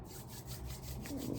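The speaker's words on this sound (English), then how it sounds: "rub it in your hands" Palms rub oil together in a quick, soft back-and-forth swishing, close and steady, over a low background hiss.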